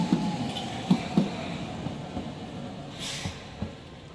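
Tokyo Sakura tram at Ōtsuka, a low rolling rumble with a few clacks of wheels over rail joints and a soft hiss, heard at moderate distance outdoors.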